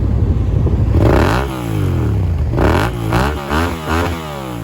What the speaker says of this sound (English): give it some high RPM revs to let y'all hear what that exhaust sounds like